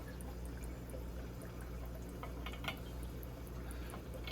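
Water drips through a siphon line into a shrimp breeding tank, a quick run of small, faint drips over a steady low hum of background noise.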